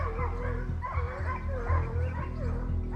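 A pack of hunting dogs chasing a wild boar bays and yelps continuously, overlapping high excited cries and barks close at hand, loud and unbroken throughout.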